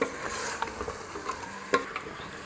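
Meat masala for gosht masala being stirred and sautéed in a pot, giving a soft continuous sizzle broken by scattered scraping clicks of the spoon, close and fairly quiet.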